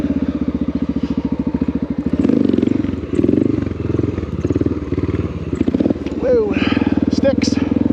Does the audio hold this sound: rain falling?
no